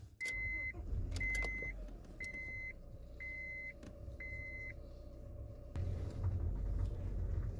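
A Honda Prelude runs inside the cabin with a steady low engine drone, and a repeating electronic warning chime sounds five times before the engine note swells as the car pulls away.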